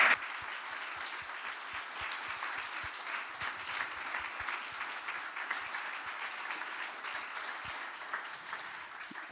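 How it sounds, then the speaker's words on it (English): A round of applause from a seated audience for a space-industry panel at a business breakfast, continuous and even clapping that sounds somewhat distant and moderately quiet, with no talking over it. "I think that the panel really deserves a round of applause."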